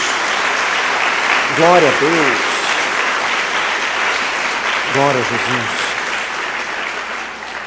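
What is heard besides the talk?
congregation applauding in church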